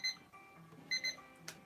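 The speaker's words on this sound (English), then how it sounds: "That's the timer, guys." A timer alarm goes off with two quick bursts of bright electronic beeps, a pause, then a second pair of beeps, fairly faint and with no voices over it.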